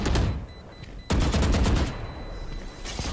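Video game gunfire rattles in rapid automatic bursts with single sharp shots between them, moderately loud and close, with no talk over it.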